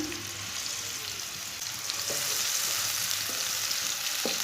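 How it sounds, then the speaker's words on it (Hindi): Green onion and green garlic fry in hot oil in a small pan, a steady close sizzle with occasional stirring taps and no voices. "सब्ज़ लहसुन और सब्ज़ प्याज को दोनों को ब्राउन कर लेंगे।"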